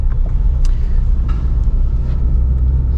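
A Porsche 718 Cayman GT4 RS pulls away, its engine producing a loud, steady low rumble with a brief rising note partway through, heard from inside the car with no talk.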